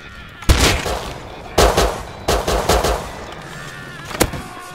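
Semi-automatic rifle fire in the survival game Rust: several loud, sharp shots in spaced bursts, some in quick pairs or triplets, with one final isolated shot; no speech.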